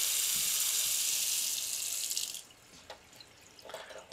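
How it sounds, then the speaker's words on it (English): Cold water gushes from a tap into a sink in a steady, close hiss for about two seconds, then shuts off, leaving a few faint drips and splashes. "We will run the water, cold water."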